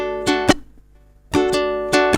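Ukulele strummed in a subdivided beat pattern, a few quick bright strums in short bursts separated by a brief gap, close and clear with no talking.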